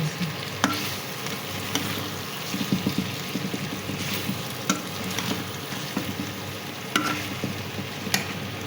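Rooster meat sizzles and fries in a pan during slow browning for curry, a steady crackling hiss broken by occasional stirring scrapes and sharper pops, close and without talk.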